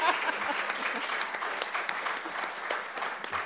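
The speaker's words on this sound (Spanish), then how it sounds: "Aplaudan." Audience applause at a forum on migration in Jalisco, a dense steady patter of clapping that holds at a moderate level throughout and then thins slightly near the end, with no voices over it.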